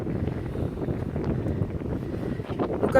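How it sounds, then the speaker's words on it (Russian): Steady, buffeting wind at a lakeside in Ireland, a dense low rumble of gusts against the microphone that holds a fairly even loudness throughout, with no clear talk. "Смотри, ветер, по-моему, утихает."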